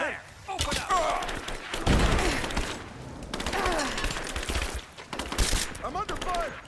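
Gunfire rings out in Rise of the Tomb Raider, coming as bursts of shots and thuds mixed with in-game voices shouting over the firefight, at moderate loudness.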